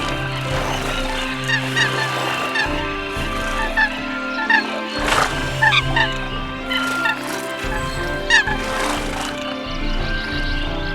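Eurasian coots calling while defending their territory, repeated sharp honking and gobbling calls rising in loud bursts over steady background noise.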